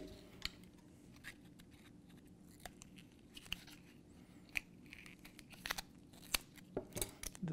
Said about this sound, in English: I'm going to cut just a little bit off the end here.